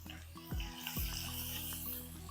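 Shallots and turkey berries fry in oil for kara kuzhambu with a soft, steady sizzle. Two brief stirring scrapes cut through it up close, and the level stays fairly quiet.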